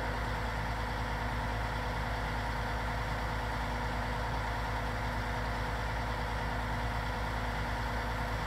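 A John Deere 9RX tractor idles in Farming Simulator 19, a steady low engine hum that holds constant with no revving or change.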